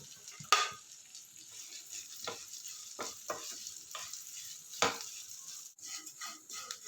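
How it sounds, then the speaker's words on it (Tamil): Flattened rice (aval) roasting in ghee in a pan, a soft low sizzle near the mic with scattered stirring scrapes and a few louder clatters of the spoon. "இந்த அவலை போட்டு நல்லா வறுத்துக்கலாம்."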